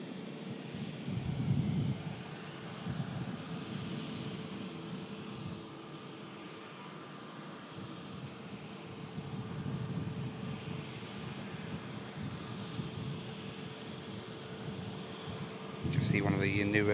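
Pegasus Airbus A321neo airliner at Manchester Airport, its engines a steady, moderately distant drone with wind across the microphone, faint talk underneath and a louder gust near the end.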